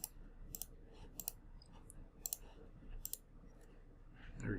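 Computer mouse buttons clicking while working in network simulation software, five or six sharp, faint clicks spaced irregularly over a quiet room background.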